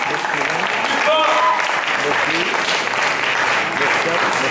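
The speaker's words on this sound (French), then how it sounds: "On applaudit au musical." An audience applauds steadily and loudly at a poetry slam final, dense clapping sustained throughout with a voice talking over it.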